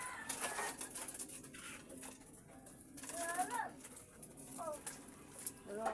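Pigeons coo in soft, repeated bursts close by, with people talking quietly around them.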